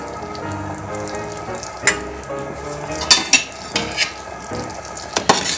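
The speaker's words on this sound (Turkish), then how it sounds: "Şimdi hafif soğanlı kavuracağım." Onions sauté in a pan of butter and olive oil, giving a steady sizzle broken by sharp scraping and clacking as they are stirred, with no talking.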